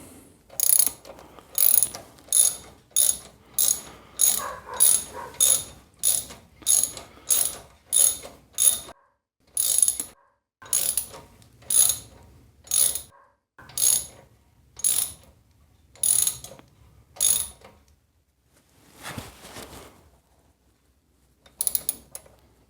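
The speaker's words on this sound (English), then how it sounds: "we're nicely in the thread and we're going to wind it all the way out now" A ratchet clicks in a steady run of rapid bursts while winding a spark plug thread repair tool out of a stripped spark plug hole, close and loud, then slows to a few scattered clicks.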